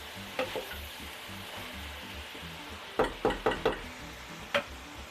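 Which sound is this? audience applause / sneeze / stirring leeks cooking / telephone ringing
stirring leeks cooking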